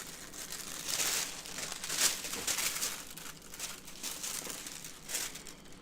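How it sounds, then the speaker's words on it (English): Graphite transfer paper crinkling while being handled for a wood burning portrait, a close, continuous rustling and crackling in uneven bursts. "So I'm going to make some noise with my little paper, graphite paper here."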